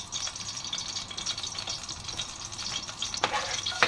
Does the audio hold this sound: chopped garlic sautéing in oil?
yes